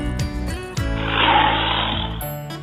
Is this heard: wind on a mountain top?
no